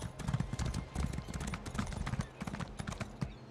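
Rhythmic clip-clop of a horse's hooves while riding in The Elder Scrolls Online, steady close footfalls with a faint background and no talking.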